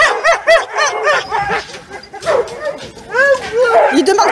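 Tethered competition sled dogs at a morning training session bark, yip and whine excitedly in quick overlapping bursts, loud and close, eager to run, with people talking over the din.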